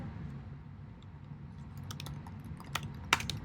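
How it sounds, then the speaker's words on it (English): Typing on a computer keyboard: faint, sparse key clicks begin after a quiet stretch, then speed into a short burst of taps over a low room hum. "here I'm just going to go ahead and type our names"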